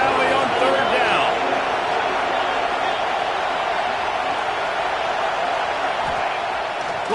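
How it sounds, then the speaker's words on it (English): Loud, steady roar of a big stadium crowd in Happy Valley on third down in the College Football 26 video game, a continuous wash of noise lasting throughout with faint commentary-like voices underneath. "Here comes the noise from this big crowd in Happy Valley on 3rd down."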